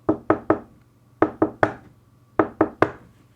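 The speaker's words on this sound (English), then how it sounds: "The rapping grew louder with every second." Three quick groups of three sharp knocks on a hollow surface, evenly paced, close and clear.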